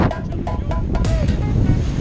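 Wind buffets the microphone aboard a sailing yacht, a loud broadband rush with water and hull noise beneath it, steady across the moment.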